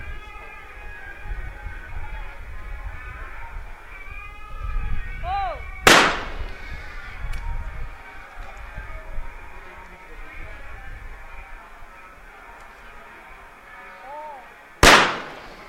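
Two loud, sharp shotgun blasts ring out several seconds apart at a shooting World Cup final in New Delhi, each with a short echoing tail, while a commentator talks quietly in between.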